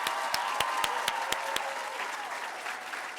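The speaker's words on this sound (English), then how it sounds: "Can we give them one final round of applause?" An audience applauds graduates at a senior school closing ceremony, a sustained wash of many hands clapping in a hall with a few louder nearby claps standing out early on.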